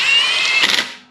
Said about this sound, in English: install your crank pulley bolt. You can use an OEM one or aftermarket one. And you get your torque wrench out.